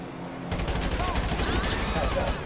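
Rapid bursts of gunfire in GTA 5 Online ring out continuously after a brief quiet start, dense and fairly loud with a faint voice mixed underneath.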